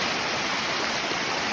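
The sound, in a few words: waterfall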